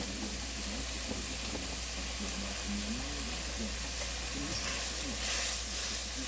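Ground turkey sizzling steadily in a stir fry pan, a constant close frying hiss with faint crackles and a little spoon scraping toward the end, with no talk.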